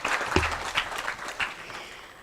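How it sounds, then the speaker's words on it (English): Audience applause fills a formal child-rights intergenerational dialogue event attended by ministers and officials: dense, steady clapping from a crowd of moderate size, fairly close, lasting the whole moment with no speech over it. "Another big round of applause for both the ministries."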